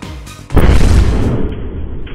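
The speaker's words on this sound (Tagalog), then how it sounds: "Laking gulat ng lalaking yan sa napakalakas na pagsabog sa Zamboanga City" A powerful fireworks explosion during a fireworks disposal bursts out suddenly, a deep booming blast followed by a long rumbling roar that slowly fades.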